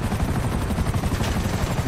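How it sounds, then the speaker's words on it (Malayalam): Gunfire erupts in the video game GTA V during a Los Angeles-style street shootout, a dense, continuous rattle of rapid shots, loud and unbroken with no talk. "അതാ എൻ്റെ ഗ്ലാസ്സിലും വെടിയായിരിക്കും"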